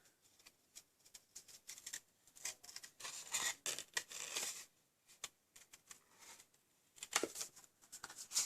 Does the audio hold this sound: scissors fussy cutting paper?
yes